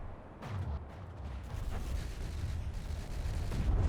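Cram cannons firing in a naval battle in From the Depths, a rumbling wash of heavy distant booms and dull impacts building steadily in loudness, with no talking.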